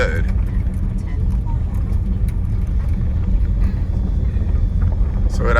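Tesla Model S Long Range driving on a gravel road on autopilot, a steady, loud rumble of tires crunching over loose stones with wind noise throughout.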